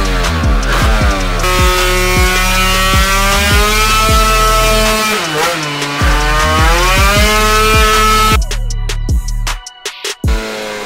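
A Yamaha Aerox scooter engine fitted with a smart carb, started with the choke on, idles and revs loudly and close by, its pitch rising and falling repeatedly before cutting out near the end.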